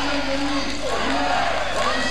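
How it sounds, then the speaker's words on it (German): Crowd cheering builds at a 2002 IWSF wrestling show in Charlieu, France, a loud, steady wash of voices with rising shouts and whistles, continuous throughout. "jetzt baust hier der Jubel auf"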